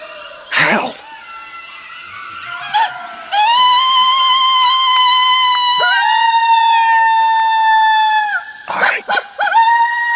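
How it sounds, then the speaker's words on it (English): A pack of coyotes answers a call with a loud chorus of sustained, wavering howls and yips, opening with a sharp yelp and ending in scattered high yips, the long drawn howls holding steady in the middle. "Howl at them."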